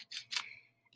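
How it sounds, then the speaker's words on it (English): Scissors snipping a sheet of paper in half, two quick, close, faint crisp cuts in a quiet room. "I'm going to cut it in half."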